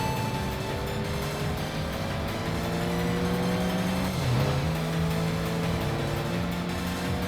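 A Supra races in Tokyo Xtreme Racer, its engine holding a steady, rising whine with a brief dip and recovery at a gear shift, loud and continuous throughout.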